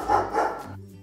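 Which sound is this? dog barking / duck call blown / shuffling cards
dog barking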